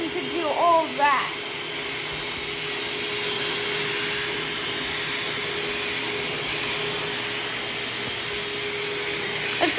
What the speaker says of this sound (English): Who knew a little vacuum could do all that?